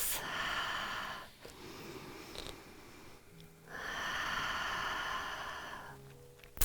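Slow, deep breaths during a sunrise yoga sun salutation, each long airy inhale and exhale swelling and fading close by with a brief pause between, no talking.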